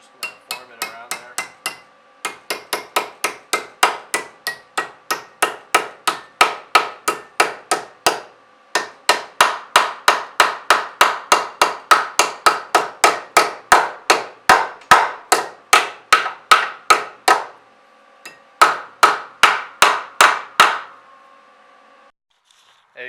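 A hammer strikes a cut piece of metal floorboard panel from a Volvo to form it around a hole, dozens of loud, close, evenly spaced metallic blows in quick rhythmic bursts with short pauses between runs.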